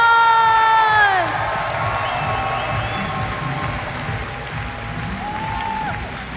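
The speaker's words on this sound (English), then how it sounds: "Give them all a huge, huge round of applause!" A large convention crowd at MineCon 2012 applauds and cheers, with high shouts and whoops over sustained clapping that stays loud throughout.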